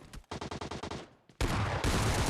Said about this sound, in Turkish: Bak silahsız adamı sıkıyorsun olmuyor böyle şeyler